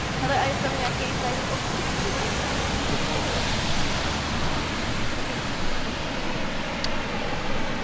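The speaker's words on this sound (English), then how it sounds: "we are going to take a look at the famous waterfall. It's called" Steinsdalsfossen waterfall in Norway pours as a steady, dense roar of rushing water, constant and close throughout, with a voice speaking faintly over it.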